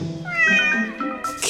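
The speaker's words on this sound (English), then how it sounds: "Cat." A cat gives one drawn-out, loud meow close up, its pitch rising and then falling, followed by a short burst of noise at the end.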